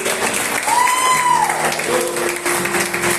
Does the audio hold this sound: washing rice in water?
no